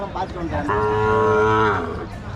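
A calf at a cattle market gives one drawn-out, close moo lasting about a second, set against a background of murmuring crowd noise.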